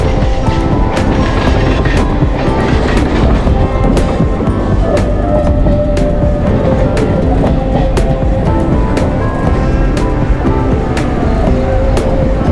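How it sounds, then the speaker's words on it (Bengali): A local suburban train running between Sheoraphuli and Mankundu near Chandannagar rumbles steadily and loudly, with rhythmic clicks of wheels over rail joints throughout. "ট্রেন এবার চলেছে চন্দননগরের আগের স্টেশন মানকুণ্ডুতে।"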